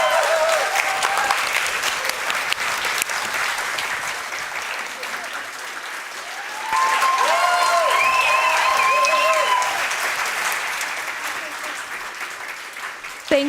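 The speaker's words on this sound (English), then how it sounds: "Noel, Amina, Tero, Nataya, and Sahir, please, another applause." Sustained audience applause at a photography masterclass presentation, steady clapping from a crowd that swells louder midway and then tapers, with a few cheers or tonal calls mixed in.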